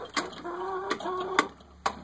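Rhode Island Red hens cluck in short, separate bursts, close by and moderately loud, with a few sharper calls over a soft, steady background.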